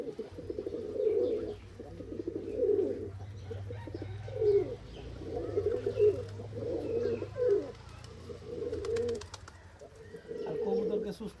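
Racer pigeons on a pigeon farm in Rajshahi coo in repeated low, throaty phrases, several birds overlapping steadily throughout, with light chirps and faint background voices.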